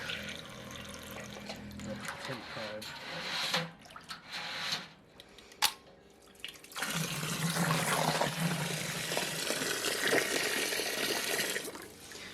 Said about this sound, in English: that's a nice strong Whirlpool, that. Got, see, starting to vortex with 16 litres in